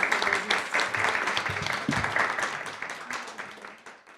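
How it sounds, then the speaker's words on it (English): An audience at a panel discussion applauds its panelists, a dense burst of clapping that starts loud and slowly thins out. "a round of applause to our wonderful panelists"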